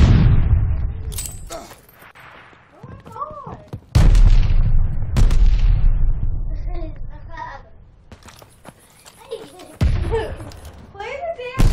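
Stun grenades and other booms go off in Call of Duty Vanguard multiplayer, several loud, sharp blasts with ringing tails, spaced across the stretch, with voices talking and shouting between them.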